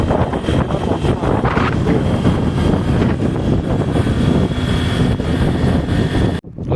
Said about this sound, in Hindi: बहुत तेज़ हवा चल रही है यहाँ पे